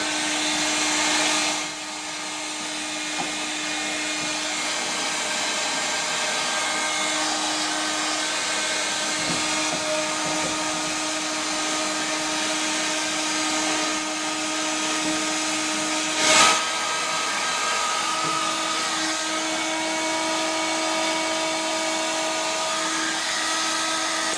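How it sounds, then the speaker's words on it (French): A heat gun blows steadily while heating the inside of a toilet pipe elbow to loosen the remains of a WC connector sleeve, giving a continuous fan-and-air roar with a steady hum, alone and close. "à l'aide d'un décapteur thermique, on va chauffer l'intérieur du coude pour décoller le reste de la manchette"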